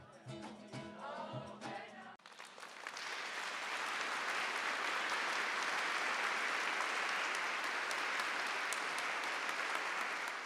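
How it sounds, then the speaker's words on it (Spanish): An audience of the Pauline family applauds the Pope in the Clementine Hall, a dense, sustained round of clapping that swells in after a brief stretch of speech and holds steady. "Los miembros de la familia Paulina recibieron al Papa con un fuerte aplauso"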